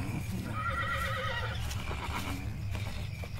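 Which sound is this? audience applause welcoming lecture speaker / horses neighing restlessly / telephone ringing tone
horses neighing restlessly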